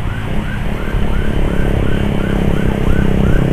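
Ambulance siren wailing on a road between Garut and Nagreg, a loud repeating rising whoop cycling steadily over road traffic and engine rumble.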